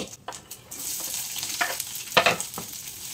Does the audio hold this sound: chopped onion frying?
yes